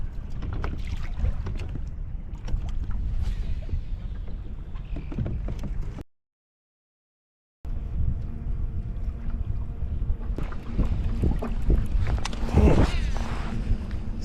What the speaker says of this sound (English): Wind wasn't supposed to be like this.